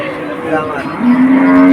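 A cow moos loudly and steadily at a busy rural cattle market in Betaga, the long low call rising over a dense background murmur of the crowd and livestock.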